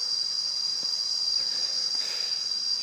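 Insects buzz in a steady, bright drone through a forest near waterfalls and mountains, loud and continuous. It is most likely cicadas, with a couple of faint soft knocks underneath and no talking.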